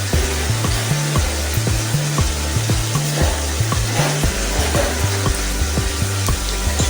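Egg curry with shahi garam masala stirred in a hot pan, a loud continuous sizzle cut by a regular rhythm of spoon scrapes, about two strokes a second, with no talking.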